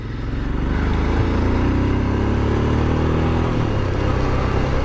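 A Royal Enfield Scram 411 motorcycle is ridden on the road, its single-cylinder engine droning loudly and steadily with pitch rising and dipping through smooth gear changes, close and continuous with no talk.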